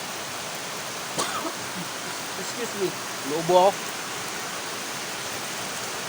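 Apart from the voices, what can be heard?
heavy rain falling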